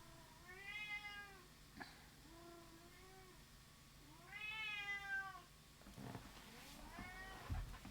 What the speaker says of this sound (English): Yes, it's a kitty.